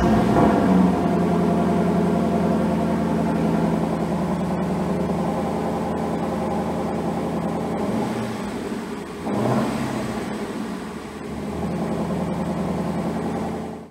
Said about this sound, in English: just have a hear of this exhaust note.